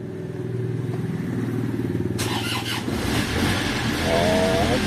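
A vehicle engine turns over and catches, then settles into a steady close idle. A brief clattering burst comes partway through, with no clear talking.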